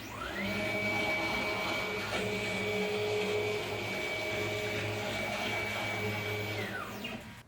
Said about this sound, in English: Now let's try our target print speed of 180 millimeters per second.